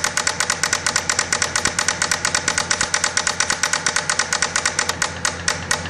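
A Bedini SSG self-runner motor runs steadily, giving off a fast, even train of sharp ticking pulses like a small idling engine, loud and close, with no talking.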